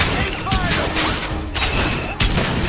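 Grenade launcher firing in Bioshock Infinite, heard as dense, loud bursts of booming blasts with sharp impacts and clattering combat noise throughout, over a busy game soundscape.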